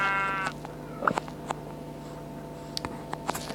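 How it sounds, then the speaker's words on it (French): Sheep in the video game Minecraft, a single short bleat near the start, moderately loud over a quiet game soundscape with faint clicks and taps. "Alors, un mouton."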